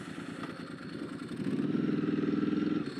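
A Ducati 999 motorcycle engine cranks and fires up quickly, settling into a loud, rhythmic, throbbing idle close by with no talk over it.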